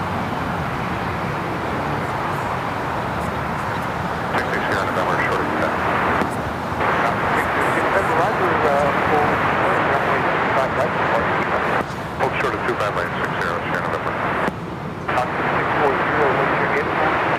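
A passenger airplane takes off from runway 25 Right at LAX, its engines a loud, continuous broadband roar that holds steady throughout, with air traffic control radio chatter running underneath.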